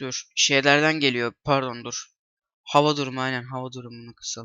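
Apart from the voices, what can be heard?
None of the usual background noises is heard.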